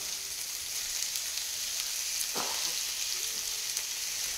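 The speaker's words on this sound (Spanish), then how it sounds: "perfectamente lo pueden sofreír porque ya tiene su sabor especial, que es el sabor italiano" An Italian-style chicken fillet fries in a pan, giving a steady, close hiss of sizzling oil, with a brief soft scrape or stir midway and no voices.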